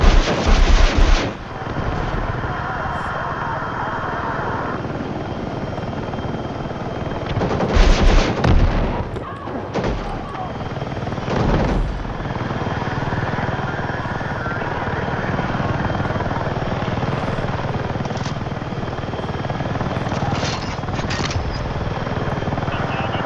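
A helicopter in Battlefield 6 gameplay, its loud continuous rotor and engine roar filling the scene, punctuated by bursts of gunfire and explosions, with occasional talk underneath.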